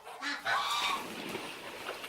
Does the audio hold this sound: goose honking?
yes